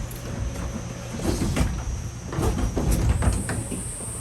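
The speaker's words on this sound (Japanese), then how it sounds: "ドアは内側に開きます。" Cable car doors on a Shikoku funicular opening at a station, a steady mechanical sliding rumble with faint clunks over constant background noise, no talk.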